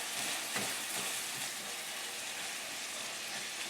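Ground lamb sizzling in a pan for a pita pocket filling, a steady close hiss of frying with faint stirring scrapes and no talk.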